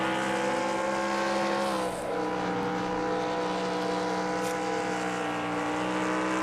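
Racing trucks in an NRSL iRacing truck series race at the Food City 200, a loud, steady engine drone roaring continuously on track with only slight shifts in pitch.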